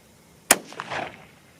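A single sharp report from a Howa 1500 Mini Super Deluxe rifle in 22 ARC firing a handload cracks out close and loud, then trails off in a brief rolling echo.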